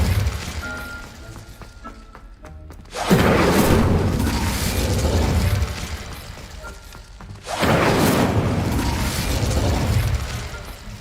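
A fire spell cast in Hogwarts Legacy, twice bursting out as a loud whooshing blast that lingers as a roaring crackle, with mechanical clicks before each burst.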